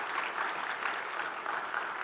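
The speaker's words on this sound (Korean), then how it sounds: "다시 한번 박수 한번 힘차게 했으면 좋겠습니다" Steady applause from a congregation at a Sunday worship service honoring retiring church elders, dense continuous clapping filling the room without pause, moderately loud and close.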